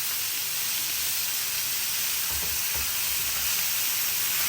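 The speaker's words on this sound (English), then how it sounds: "It's been searing for 2 minutes now." Steak sears in a hot pan with a steady, loud sizzle and hiss, broken by a few faint low bumps partway through.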